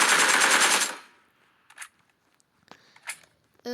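Gunfire in the video game PUBG: a loud rapid burst of automatic fire lasting about a second, then quieter scattered clicks and short sounds, with no talk.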